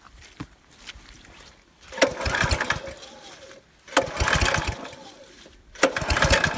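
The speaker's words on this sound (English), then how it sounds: "he'll be able to just start it without moving the choke" A warm CT200U motorbike engine is started without the choke, giving three separate loud, rough bursts of cranking and sputtering running, each stopping abruptly before the next try, close by with quieter gaps between.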